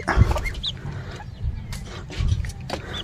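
Young chicks just given a dewormer, peeping and clucking in short bursts at close range with faint scuffling between calls, no talk.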